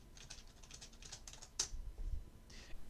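Fingers tap a computer keyboard in a quick run of light clicks, one sharper keystroke standing out, then a few softer taps, faint and close with no speech.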